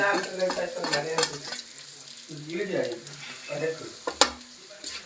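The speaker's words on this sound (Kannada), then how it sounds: "ಈ ಥರ ಜುಚ್ಕೊಂಡ್ರೆ ಚೆನ್ನಾಗದು ಫ್ರೈ ಆಗೋದು" Seasoning for puffed-rice mandakki oggarane is stirred and fried in a pan, giving a close, continuous sizzle with repeated scraping stirs and one sharp clink near the end.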